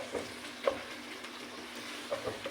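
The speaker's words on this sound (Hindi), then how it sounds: "हमने 10 मिनट तक लगातार दाल की भुनाई करनी है।" Chana dal roasting in a spice masala in a pan for a karela dal dish: a soft, continuous sizzle with faint scattered ticks and stirring scrapes, close and quiet.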